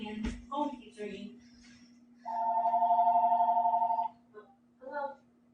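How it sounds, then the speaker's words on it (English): A phone rings once, a warbling electronic trill lasting about two seconds, in a home where someone is making coffee. Speech is heard faintly before and after the ring. "phone keeps ringing"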